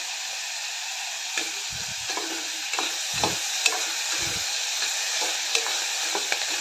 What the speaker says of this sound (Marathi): मीठ घातल्यामुळे कांदा आणि टोमॅटो लवकर भाजतात।